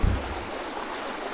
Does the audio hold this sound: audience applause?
no